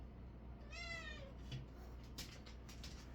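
A pet cat gives one clear, drawn-out meow, faint and somewhat distant in a quiet room, followed by a few soft bumps.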